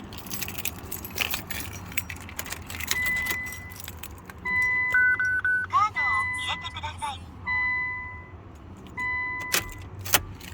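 A retrofitted toll card reader in a Nissan R34 GTT sounds a series of short electronic beeps and tones, with keys jangling and the car's low idle in the background.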